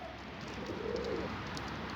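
Soft, low cooing of pigeons close by, muffled and continuous, with a faint murmur of other birds.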